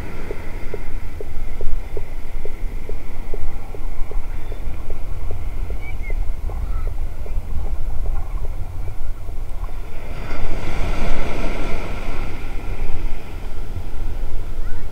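Muffled underwater ambience off a Punta Cana resort beach in the Dominican Republic, a steady low wash with faint rhythmic ticking and a surge of bubbly turbulence near the end.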